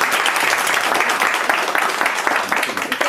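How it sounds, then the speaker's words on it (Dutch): Dense, steady clapping from a small audience at a certificate ceremony in a work club, celebrating a participant, close and lively throughout. "Applaus voor Achmat."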